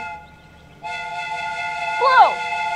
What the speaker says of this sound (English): I'm going to use the steam whistle